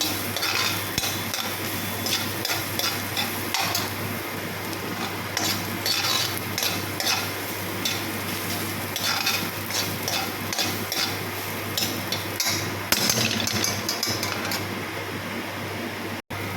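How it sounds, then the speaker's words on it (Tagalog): Onion and garlic sautéing in a pan, heard as a continuous close sizzle with a low steady hum underneath, broken by frequent scraping stirs and occasional utensil clinks. "Isayin natin yung sibuyas sa bawang."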